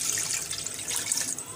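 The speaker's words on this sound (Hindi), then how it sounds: "सबसे पहले हम इसमें ऐड कर देंगे पानी।" Water from a tap pours into frozen mutton mince in a kitchen, a steady close hiss and splash of running liquid filling the bowl for the whole short stretch.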